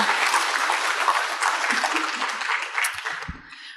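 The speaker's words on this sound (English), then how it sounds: "give another round of applause, please" A crowd at an association's award presentation applauds loudly and continuously, the clapping tapering near the end as a few low thumps and handling noises come through.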